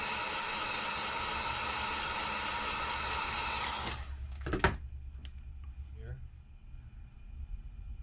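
A heat tool blows hot air onto an LG K30 or K10 phone during a front screen repair, a steady loud whooshing hiss that cuts off after about four seconds, followed by clicks and faint handling noise.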